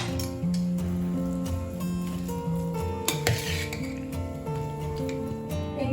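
Rice being mixed with tamarind paste in a metal vessel for temple-style puliyodharai, with soft scraping, stirring and occasional light clinks of a spoon against the pot, close and fairly quiet over a low background hum.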